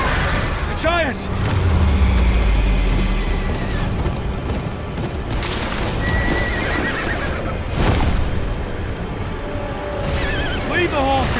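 In the Game of Thrones: Kingsroad video game, horses neigh and whinny repeatedly over galloping hoofbeats amid battle noise and booming, with voices talking throughout.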